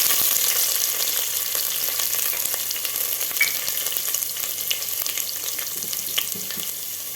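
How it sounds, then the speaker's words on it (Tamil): Chopped garlic sizzling in hot oil in a frying pan while cooking a one-pot rice and lentil dish, a steady close crackle and hiss with occasional faint stirring clicks throughout. "பூண்டு பொடியை கட் பண்ணி வச்சுருக்கேன் அதையும் போட்டுக்கலாம்"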